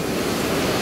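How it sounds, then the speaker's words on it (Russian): Icy river water rushes loudly and steadily around someone wading through Saklikent Canyon near Fethiye, Turkey, a close, dense roar with no voices, lasting less than a second. "Перехожу в ледяной воде"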